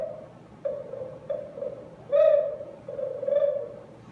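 A voice imitates a pigeon by trilling the tongue, a trilled, cooing tone in several short rolling calls in a row, near and moderately loud.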